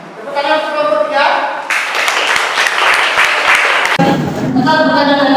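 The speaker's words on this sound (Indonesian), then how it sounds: "Tepuk tangan untuk kelompok 3." Students clap for a group in a classroom. A burst of clapping fills the middle of the clip, with a voice speaking before and after it.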